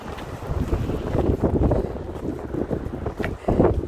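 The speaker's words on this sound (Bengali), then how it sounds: "বাতাস আছে।" Gusty wind roars and buffets the microphone outdoors during a heavy March 2023 snowstorm in Toronto, loud and uneven in surges, with no talking.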